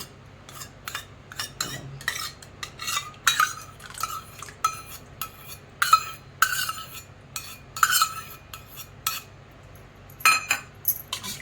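A metal spoon stirs lukewarm milk in a steel pot so it sets into thick curd at home, giving repeated sharp clinks and scrapes against the pot in irregular bursts, close and clear with no talking.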